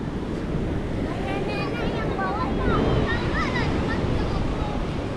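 Waves break and wash steadily onto a beach in Padang, a loud, continuous roar of surf mixed with wind buffeting the microphone, with faint voices in the background.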